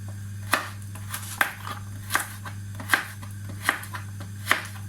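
Carrots being chopped into thin slices on a cutting board, a steady series of crisp knife taps spaced about every three-quarters of a second, close and clear over a constant low hum.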